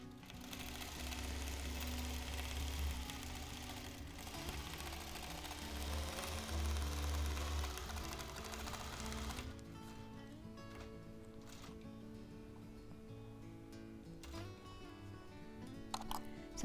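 A longarm quilting machine free-motion stitches a stretchy topographical map quilt, crossing a seam in the backing fabric; a steady mechanical whir and rapid needle chatter shift in tone partway through and carry on.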